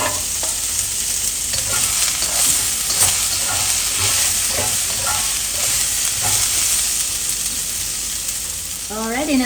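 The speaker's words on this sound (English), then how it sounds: "Let's saute it for about 2 minutes so that all these vegetables get garlicky flavor" Garlic, dried red chilies and broccoli sauteing in a hot pan, a loud continuous sizzle with stirring scrapes and clatters throughout, close up, with a brief voice near the end.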